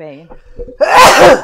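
A single loud, close sneeze bursts out right after a brief spoken word.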